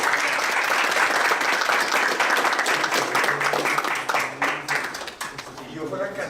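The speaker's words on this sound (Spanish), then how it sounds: "El aplauso." Audience at a forum with a presidential candidate breaking into sustained applause, dense and steady at first, then thinning into scattered claps as it fades toward the end.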